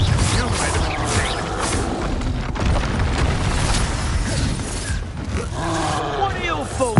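A Confringo explosive spell blast in Hogwarts Legacy goes off amid a dense, continuous wash of loud game effects, rumbling and mechanical clatter, with a voice talking over it.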